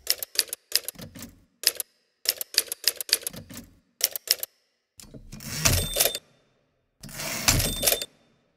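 Typewriter keys clatter in close, sharp bursts of rapid strikes separated by short pauses, followed by two longer, louder mechanical rattles like carriage returns or bell-and-slide movements.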